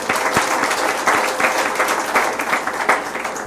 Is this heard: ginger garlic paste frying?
no